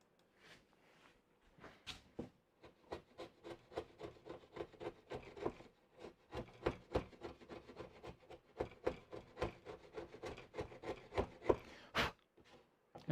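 A dull chisel works wood during melamine cabinet assembly, with a close, quick train of rasping scrapes in a steady rhythm that grows louder and ends with a sharper knock.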